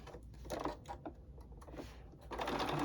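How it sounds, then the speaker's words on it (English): Sewing machine stitching quilting fabric, several short close bursts of rapid mechanical whirring separated by brief pauses, with no talk. "we're going to stitch right down that line, 1/4 inch away from our edge of our fabric"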